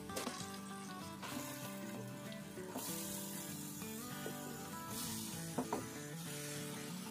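Grated radish frying in a hot pan, a steady continuous sizzle with occasional clinks and scrapes of a utensil against the pan, close and fairly loud throughout.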